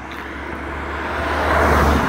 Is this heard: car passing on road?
yes